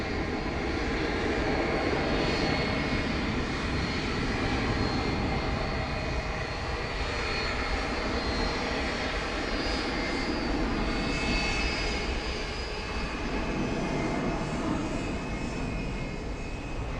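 An airliner takes off at night at Dallas Fort Worth Airport, its engines giving a steady, broad, continuous roar that holds at an even level throughout, with no voices over it.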